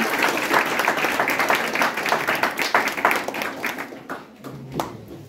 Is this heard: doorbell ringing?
no